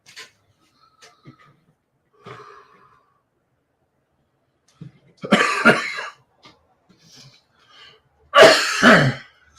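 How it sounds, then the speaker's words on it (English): Two loud, harsh coughing bursts close to the mic, separated by a pause, with faint rustling and small sounds between. "This damn cough has returned."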